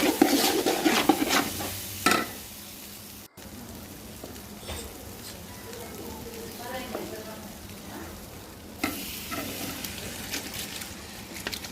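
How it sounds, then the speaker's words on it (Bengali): Rice and peas fry in a pot, a soft sizzle under repeated scraping and clattering stirs, with a brief dropout and a voice speaking over part of it. "মটরশুঁটি দিয়ে দিলাম ভালো করে ভেজে নিব চালটা ভালো করে ভাজা হয়ে গেলে"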